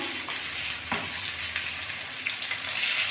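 Eggplant frying with potatoes in oil, a loud continuous sizzle close up with a few stirring scrapes and bubbling pops.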